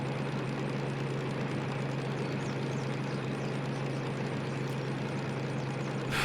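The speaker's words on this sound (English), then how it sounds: "I'm running the engine a little too hot, that's my bad. We just need to leave it on just a little bit of throttle." A video-game locomotive engine idling on light throttle, a steady low diesel drone with a constant hum running unbroken and fairly quiet throughout, no voices.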